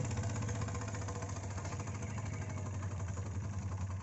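A vehicle engine driven in gear on a farm, holding a steady, continuous low drone with a constant hum throughout, close and moderately loud with no talk over it.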